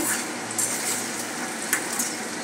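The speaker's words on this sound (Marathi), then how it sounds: "अशा प्रकारे आपण तळून घेतोय." Shell-shaped crunchy snacks deep-frying in oil, a dense, even crackling hiss with small pops, close and constant for the whole short stretch.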